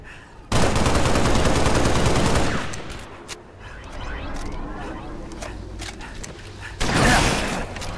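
Shotgun blasts in Halo: Reach during an Infection custom match, loud dense bursts of gunfire in two heavy stretches separated by quieter mechanical clatter and game ambience, no speech over it.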